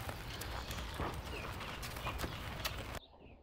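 Rapid hoofbeats of a two-year-old racehorse galloping in training, a steady dense drumming on the track that cuts off abruptly near the end.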